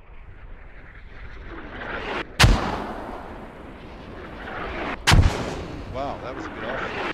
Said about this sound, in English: So that's the mortar, the big mother.